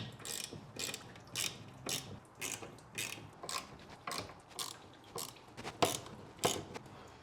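A ratchet clicks in quick bursts while removing a bracket on a Ford Escort Cabrio XR3i, repeated close, crisp ratcheting strokes in an uneven rhythm with no talk.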